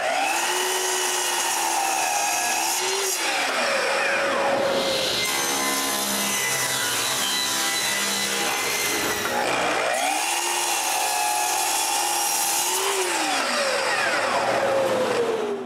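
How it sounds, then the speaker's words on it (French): Saw cutting maple boards in a woodworking shop, two loud passes each with a whining motor pitch that dips under load, a harsh grinding cut in between, and a rise again at the end. "Pendant que la colle sèche, je coupe d'autres planches d'érable pour les deux côtés de mon guide."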